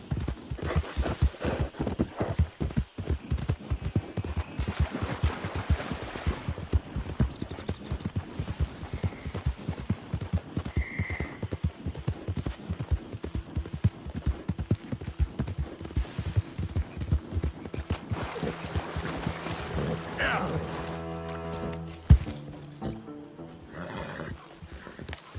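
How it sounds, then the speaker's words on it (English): Horse hooves clip-clop steadily and close throughout in the Red Dead Redemption 2 western game, a dense rhythmic trot lasting most of the span, with a brief whinny-like tone near the end before the hoofbeats stop. "That horse looks in fine fettle, Arthur."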